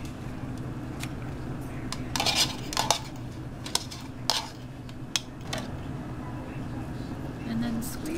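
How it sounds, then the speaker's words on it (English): Cut tomato and other meal-kit ingredients are pushed into a kitchen bowl, giving light clinks and scrapes with a few sharp knocks over a steady background hum. "So I'm shoving everything into a bowl."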